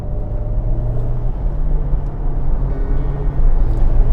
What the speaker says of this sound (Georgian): თუმცა ძრავის ხმა ძალიან კარგად მესმის